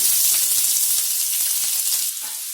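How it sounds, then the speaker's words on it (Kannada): Finely chopped onions crackle and sizzle in hot oil with chana dal, a dense, steady hiss and quick popping, settling slightly softer toward the end. "ಸಣ್ಣಗೆ ಕಟ್ ಮಾಡಿದ ಈರುಳ್ಳಿಯನ್ನ ಹಾಕೊಳ್ಳೋಣ"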